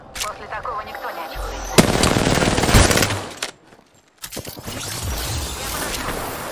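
Rapid bursts of gunfire in Apex Legends on PS4, loud crackling volleys with a short pause before firing resumes.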